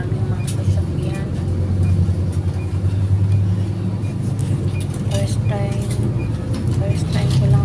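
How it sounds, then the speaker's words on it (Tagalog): Many cars roll past on a road during a drive to Salmiya Old Souk in Kuwait, a continuous low engine rumble and traffic drone with voices faintly mixed in. "Maraming mga sasakyan."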